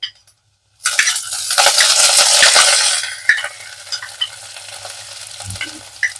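Garlic and curry leaves dropped into hot oil for a dal tempering, a sudden loud burst of sizzling that stays strong for a couple of seconds, then settles into a softer crackle with light stirring clinks.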